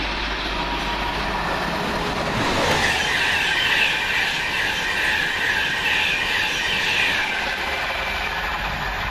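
A Virgin East Coast express train runs through St Neots station on the London King's Cross to Edinburgh line, a steady loud rumble of wheels and rail with rhythmic clatter rising mid-pass, close by and without talk.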